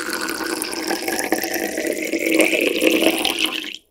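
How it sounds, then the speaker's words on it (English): Water poured out onto a whiteboard, a steady hissing splash that runs continuously, swells a little toward the end and then stops abruptly. "I am going to put my water on his drawings on the whiteboard."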